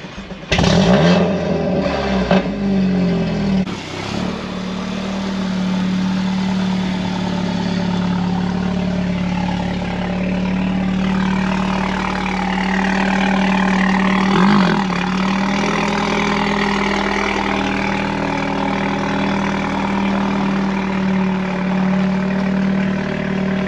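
A Mercedes CLA 45 AMG, stage 2 tuned to 420 hp, fires up with a brief loud burst of revving, then settles into a steady, deep idle that carries on evenly for the rest of the recording.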